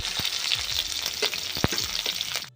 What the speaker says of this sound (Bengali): পরোটার মধ্যে আর একটু তেল দিয়ে দিলাম দিয়ে পেঁয়াজগুলো দিয়ে দেবো